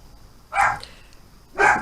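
Dogs bark twice, a second apart, loud and fairly near, over a low steady background hum.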